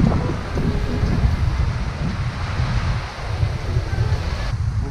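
Steady surf washing ashore at Baby Beach, Aruba, a broad continuous rush of waves mixed with buffeting wind noise on the microphone, with no clear speech.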